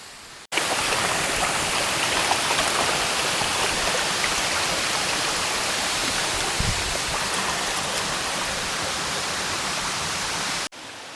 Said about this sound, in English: So there are two waterfalls here. We're at the base of one.